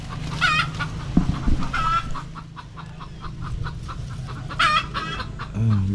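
A hen clucks after laying eggs on a farm: short bursts of sharp, repeated calls near the start and again toward the end, close by, over steady low background noise.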